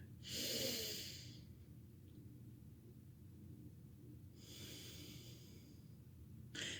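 Deep, slow breathing during a guided relaxation exercise: two soft, airy breaths several seconds apart, close to the microphone and quiet, with near silence between them.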